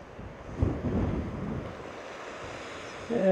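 Sea waves wash onto the shore below the East Cliffs at Ventnor, a soft rushing surge mixed with wind noise on the microphone, faint and continuous.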